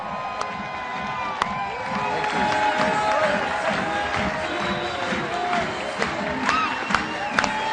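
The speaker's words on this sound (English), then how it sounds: "please help me give a huge round of applause for Mr. Keith Cunningham!" An audience at a seminar bursts into sustained applause and cheering, a dense wash of clapping with whoops and shouts rising through it, loud and close, with a few voices audible in the crowd.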